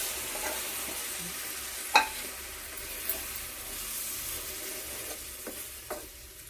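Water added to a pan holding leftover frying oil gives a soft, steady sizzle, broken by a few light scraping clicks as it is stirred. The sound is quiet and close.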